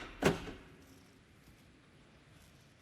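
A Mercedes-Benz G-Class door locking: a single sharp, brief click near the start, followed by quiet room tone.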